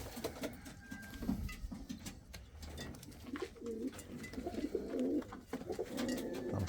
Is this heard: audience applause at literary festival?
no